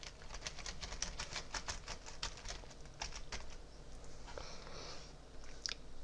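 Quiet computer keyboard typing, a quick run of faint clicking keystrokes followed by a few scattered taps.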